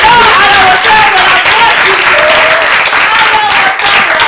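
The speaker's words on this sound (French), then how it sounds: "Est-ce que vous pouvez applaudir?" Loud applause from an audience at a ceremony, close and continuous, with voices faintly heard over the clapping throughout.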